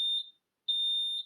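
A smoke alarm in a room gives two loud, piercing high beeps, each about a quarter to half second long, separated by a short silent gap.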